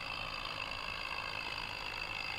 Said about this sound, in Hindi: फर्स्ट गियर लग चुका है ट्रैक्टर में, और अभी से ही उठ गया है भाई।